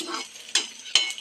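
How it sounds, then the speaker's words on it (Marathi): Edible gum (dink) fries in ghee in a kadai, with a soft crackle and a few sharp scraping stirs in uneven bursts. "आणि डिंक भाजायला घ्यायचं"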